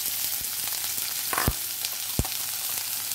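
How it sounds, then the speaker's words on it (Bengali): Chopped onions hiss and crackle steadily as they fry in mustard oil for an okra dopiyaza, with a few sharper pops standing out from the dense, close sizzle. "তাতে দিয়ে দিচ্ছি পেঁয়াজ"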